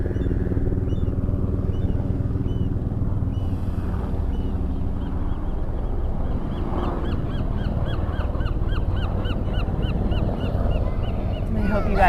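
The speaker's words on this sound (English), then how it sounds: "I hope you guys are enjoying the sounds of the helicopters, the seagulls, the children" Surf beach soundscape with continuous wave wash and wind, steady and fairly loud, while calls that could be gulls or crows and other birdsong break through repeatedly over the roar; no distinct helicopters or children stand out.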